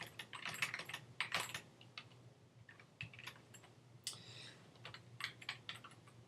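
Fingers tap on a computer keyboard at close range, irregular bursts of crisp key clicks separated by short pauses, quiet and dry with no talk.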